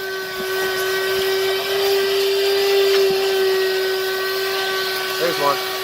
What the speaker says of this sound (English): Now is a great time to go in and vacuum up all of the 15-year-old McDonald's